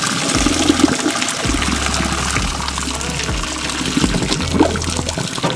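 Hot water left from boiling eggs pours into a kitchen sink drain in a continuous gushing, gurgling rush that lasts throughout, loud and close, with no talking.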